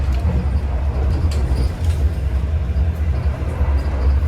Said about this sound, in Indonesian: Nih lewat Wesel.